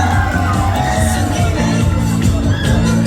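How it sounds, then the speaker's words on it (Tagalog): A school audience at a Buwan ng Wika 2024 program cheers for a teacher, with loud, dense whoops, shouts and yells forming a steady crowd roar throughout. "Palakpak naman para kay Ma'am Joyce Pianato"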